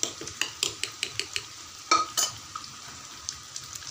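Mutton gravy cooks in a pan, a soft bubbling simmer under a run of quick, regular metal stirring clinks and scrapes close by.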